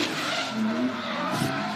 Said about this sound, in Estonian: kuulda kenasti lahtist Screamer Pipe'i, tähendab see full boost'i ja põhjagaasi